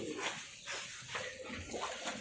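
Water poured three times over a doll during a simulated Islamic corpse washing, heard as soft splashing pours in short bursts close by, with no one speaking over it.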